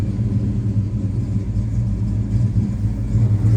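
A 1972 Chevrolet Chevelle engine idles with a steady, loud, deep rumble that holds constant throughout, with no voices over it.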